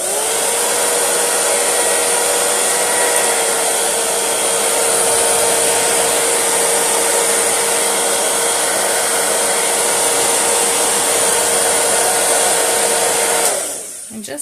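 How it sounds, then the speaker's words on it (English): Hair dryer blowing steadily and loudly up close to dry a chalk transfer, a constant whirring hum with a high tonal whine that runs unbroken for about fourteen seconds before switching off. "I'm going to get my hairdryer and use that real quick."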